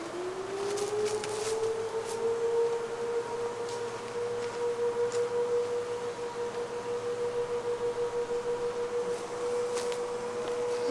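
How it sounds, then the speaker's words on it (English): An emergency siren wails outdoors on a clear day near a beehive, a steady sustained tone rising at the start and holding loud and unbroken throughout, with faint ambient noise beneath. "our emergency siren is going off"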